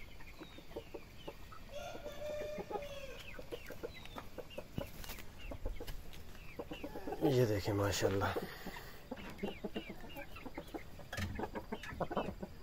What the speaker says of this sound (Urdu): بڑی پیاری زیردم والی مرغی ہے ماشاء اللہ